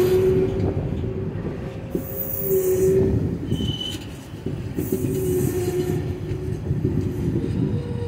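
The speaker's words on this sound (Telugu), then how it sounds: "రెడ్ సిగ్నల్ పడింది, ట్రైన్ ఆగిందండి." A train on the doubled Ramavarapadu–Vijayawada line near Madhura Nagar rolls steadily along the track, a continuous close rumble with wheel squeal and faint clatter as it slows for a red signal.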